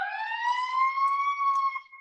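An ambulance siren sounds a single loud, sustained wailing tone that slowly rises in pitch over two seconds, heard close up and alone.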